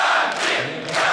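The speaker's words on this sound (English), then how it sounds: "Listen to that crowd." Crowd noise at a 2013 League of Legends LCS EU Summer esports match, a loud continuous roar of an arena audience swelling and dipping over about a second with no talk over it.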